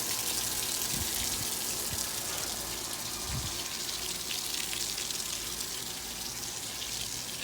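Water gushing steadily into a swimming pool being refilled after a green-pool clean-up and acid wash, a continuous loud rushing splash with no pauses and no talking.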